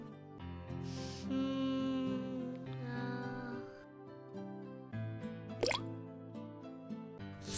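A cricket ball drops into water with a distinct plop and splash, heard alone among quiet tonal background sounds during a floating-and-sinking demonstration.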